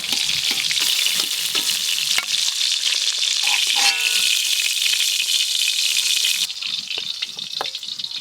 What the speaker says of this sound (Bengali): এই দেখুন পটলগুলো কত সুন্দর করে ভেজে নিয়েছি